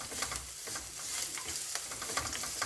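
Grated fresh coconut fries in a pan with a soft, continuous sizzle and faint stirring scrapes, heard alone over a few seconds.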